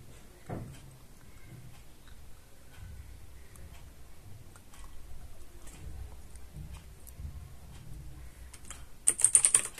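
Typing commands on a computer keyboard while formatting a Linux partition: steady, faint, close key clicks run throughout, ending in a louder quick flurry of keystrokes, with no talk.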